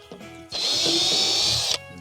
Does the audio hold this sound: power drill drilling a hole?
yes